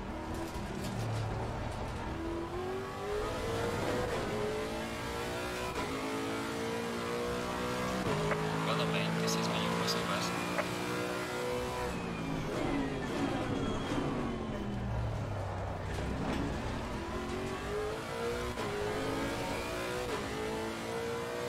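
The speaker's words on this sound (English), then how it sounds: "I'm just having fun listening to this car." A race car engine in the Assetto Corsa Competizione racing game revs and shifts continuously, rising and falling in pitch through the gears, a steady, close, droning mechanical roar with no talk.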